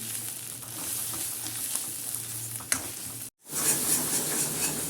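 Spices roasting in a pan on the stove, a steady close sizzle with scraping stirs, a brief sharp knock near the middle and a short cut to silence before the frying resumes, louder than before.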